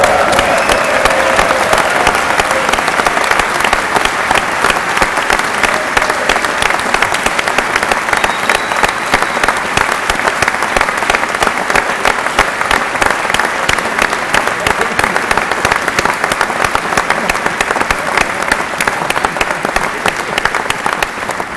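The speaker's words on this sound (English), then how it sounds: "give a huge round of applause to Clemson's Taj Boyd and Carolina's Dylan Thompson." Sustained loud applause from a large audience in a state house chamber during a State of the State address, steady dense clapping that holds for the whole stretch with crowd noise underneath.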